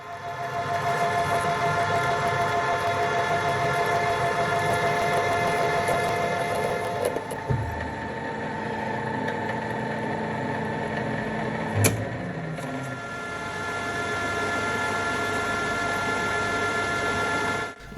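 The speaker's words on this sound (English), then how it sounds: "I'm machining a piece of 304 stainless to make the shaft." A lathe turns a 304 stainless steel shaft with a TNGG insert, giving a steady, loud mechanical whine with tonal hum that dips briefly midway, punctuated by a sharp click, with no talking.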